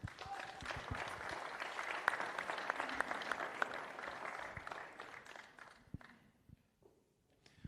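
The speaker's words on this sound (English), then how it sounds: "we'll have a big round of applause" Arena crowd applauding boxer Rashad Mati at a press conference, a loud dense clapping for about six seconds, then it thins out and fades to scattered claps.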